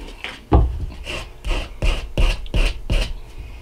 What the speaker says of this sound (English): now he's taking sandpaper and smoothing out that